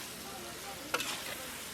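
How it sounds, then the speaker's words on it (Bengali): A spice paste with tomato and coriander leaves sizzles softly in a pan, a quiet steady hiss broken by one brief scrape of stirring near the middle. "মশলাটা অনেকটা আমরা কষিয়ে নিয়েছি, এবার আমরা কিছু টমেটো দিয়ে দেবো।"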